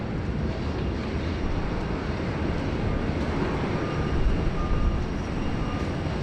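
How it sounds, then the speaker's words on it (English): A Singapore Airlines airliner passes over Sydney as a steady, broad roar of engine noise, continuous and fairly loud, swelling slightly toward the end with a faint whine on top. "that was Singapore Airlines Flight 281 heading over Sydney on the way to Auckland from Singapore"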